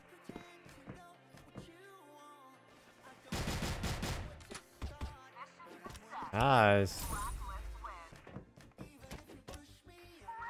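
M4 rifle fire in the shooter game CrossFire comes as loud rapid bursts of automatic shots, one dense volley in the middle and another shorter one, with a player talking over it.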